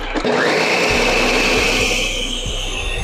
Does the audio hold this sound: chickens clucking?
no